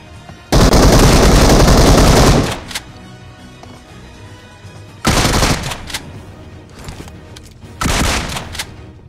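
Loud bursts of rapid automatic gunfire erupt in a mobile battle royale game fight, with one long sustained volley followed by two shorter bursts and quieter thuds in between.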